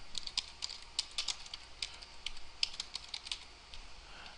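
Fingers tap out a word on a computer keyboard, a quick, close patter of light clicks in short irregular bursts, fairly quiet, with no voice over it.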